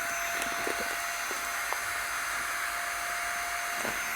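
A small USB pump sucks air out of a vacuum travel bag with a steady, even whir that holds at one level throughout, close by, with a few faint clicks and rustles of the bag.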